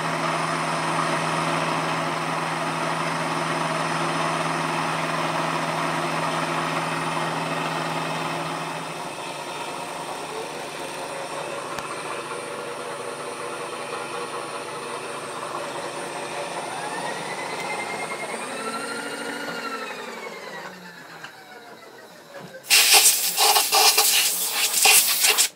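A machine cutting a metal block clamped in a vise while building a custom angle plate: a steady, loud droning cut that eases and shifts pitch partway through, ending in a brief burst of sharp, hissing noise.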